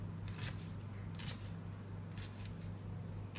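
A knife dices onion into cubes on a board, a series of soft, quick cutting taps in small bursts, faint and close over a steady low hum.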